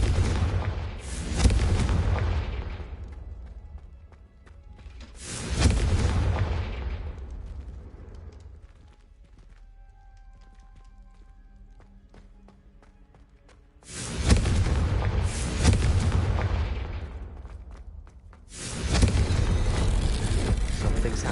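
Confringo blasting-spell explosions in a Harry Potter video game, four heavy booming blasts spaced several seconds apart, each with a long rumbling decay, separated by quieter stretches of faint ambient tones.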